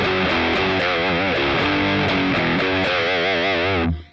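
An electric guitar played through a Boss Katana Mk 2 amp with a chorus effect gives a wavering, up-and-down shimmer on sustained distorted chords that ring out loudly, then cut off abruptly near the end.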